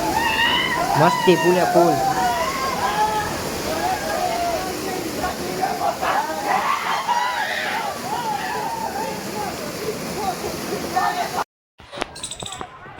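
Water sloshing and splashing as people play in the water at Jatashankar Mahadev, mixed with lively chatter and shouts that continue throughout, then a brief cut near the end.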